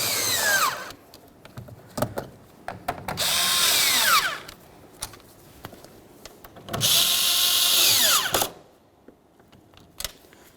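A power tool snugs up the mounting nuts on a replacement side-view mirror for a 2007-2012 Dodge Caliber, giving two longer whirring runs and several short zips close by in an otherwise quiet space.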